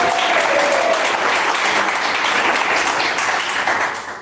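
A church congregation claps during a Portuguese-language sermon, producing a broad, sustained wash of applause that holds steady before tapering slightly at the end.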